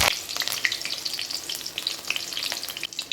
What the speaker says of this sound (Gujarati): સાથે જ આપણે એ જ તેલની અંદર અહીંયા લીલા મરચાં અને મીઠા લીમડાના પાનને ફ્રાય કરી લઈશું